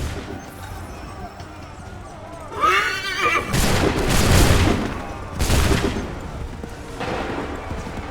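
Repeated musket volleys crack out in bursts from a line of soldiers in the video game Assassin's Creed III, with loud broadband blasts around three, four and five and a half seconds over a battlefield din, shouted commands and a horse whinnying.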